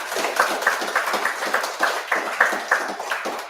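Clapping at a secondary-school debate contest final, a modest burst of hands applauding at a steady rhythm, fairly close and moderately loud with no talking over it.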